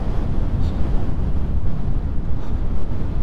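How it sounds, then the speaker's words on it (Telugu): Strong wind buffets the microphone beside a small lake in Ladakh, a loud, continuous low rumble with gusting surges and no voices. "గాలి అయితే బీభత్సంగా కొడుతుంది. విండ్ సౌండ్ వినపడుతుందా మీకు?"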